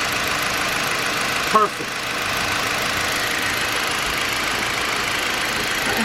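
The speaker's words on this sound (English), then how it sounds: "let me start this back up" A car engine idles steadily while being checked for a bad fuel injector, giving a continuous low running drone; a voice briefly speaks once partway through.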